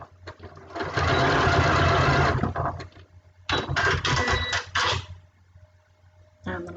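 A sewing machine stitches fabric for a pincushion, running in bursts: one long run of about two seconds, then several shorter runs with brief pauses between them, fairly close and clear.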